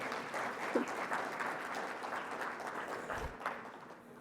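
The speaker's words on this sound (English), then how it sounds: "So if everybody could just give the HBCU-UP team another round of applause." Applause from a plenary session audience at the 2024 HBCU-UP PI conference, a steady wash of moderate clapping lasting throughout with a faint background murmur.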